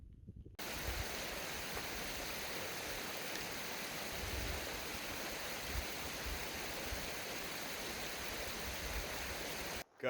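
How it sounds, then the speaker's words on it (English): Flowing water rushes steadily and continuously, a broad, even hiss like a river running over stones, with no voices. "Got a nice river crossing"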